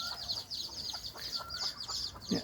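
Chickens clucking close by as a young rooster chases a hen, with steady agitated clucking and short squawks running the whole way through.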